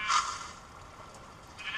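A single short sheep bleat from the Minecraft video game, close and fairly quiet, followed by a faint second call near the end.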